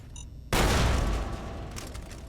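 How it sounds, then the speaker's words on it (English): A flashbang grenade goes off in the wasteland tunnels of Fallout: Tale of Two Wastelands, a sudden loud close blast after a quiet moment that settles into a lingering ringing rumble. "Flashbang myself."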